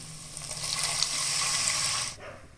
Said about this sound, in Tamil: அதுக்கு தேவையான அளவு தண்ணி சேர்த்துக்கலாம்